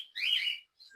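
A single bright bird chirp, close and clear, followed by a faint second call, from pet birds in an aviary on a farm.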